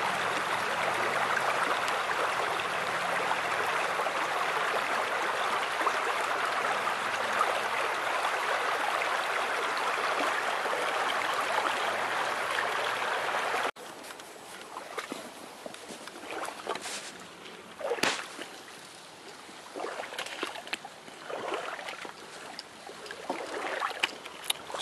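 Water in the Purgatoire River flows with a continuous broad rush, close and steady for about half the clip, then drops to quieter trickles and sloshing splashes, as if someone is wading through the shallow river.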